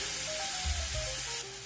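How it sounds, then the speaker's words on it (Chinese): Lamb and green onion stir-fried in a wok give a steady close sizzle, broken by a few low knocks as the pieces are tossed, with no talking. "动作慢的就慢炒"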